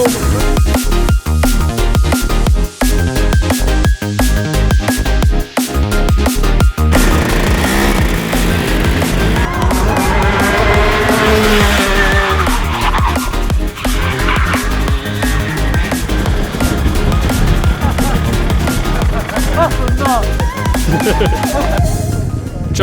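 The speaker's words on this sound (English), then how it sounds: "this is a Birrell chassis running a Rotax Max Evo engine" A Birrell chassis kart with a Rotax Max Evo engine races at Lydd, its loud, close engine revving up and down in continuous harmonic sweeps, with scrubbing tyre noise running underneath.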